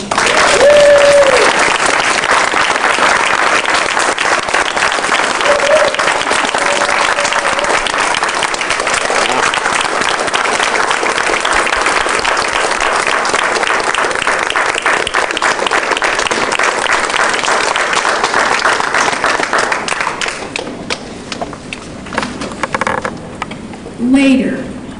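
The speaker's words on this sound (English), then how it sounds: "let's give these kids a round of applause" A crowd at a Roots and Shoots event at Northeastern University applauds children with long, loud, steady clapping that tapers off near the end.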